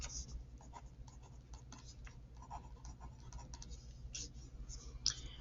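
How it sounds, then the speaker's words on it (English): Pen or pencil writing short notations on paper in chemistry lab notes, with soft scratchy strokes and occasional clicks, faint and close, with no talk. "So here I'm going to write PPT"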